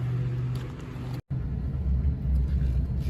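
LBZ Duramax diesel truck, recently in limp mode and capped at 2,000 rpm, driving along with a low, steady engine and road rumble heard from inside the cab, broken by a brief dropout partway through.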